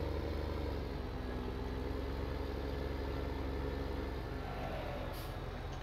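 A powerful 450-horsepower tractor engine idles in Farming Simulator 17, a loud steady low rumble that holds throughout with no talking.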